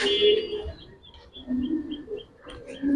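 Giribaz pigeons, including silver Benji Pankhi birds, give soft low coos mixed with brief higher chirps, close by and intermittent, with some quiet human voices in the background.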